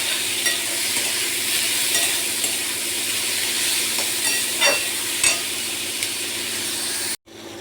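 Soybean chunks fry with a pinch of salt in a kadai and are stirred, giving a steady close sizzle with scraping stir strokes. The sound cuts off abruptly near the end.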